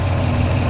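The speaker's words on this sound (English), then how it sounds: "I don't know if you guys can hear me over the engine noise" A Subaru WRX engine idles with a steady, loud low rumble. It holds a constant tone through the short moment, with no voices over it.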